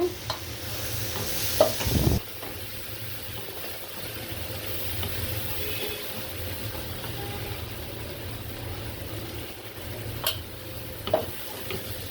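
Shrimp with a little turmeric fry in a pan, giving a low steady sizzle with an occasional scrape or knock of a utensil, a steady low hum underneath, no speech.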